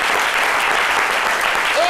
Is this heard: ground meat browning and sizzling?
no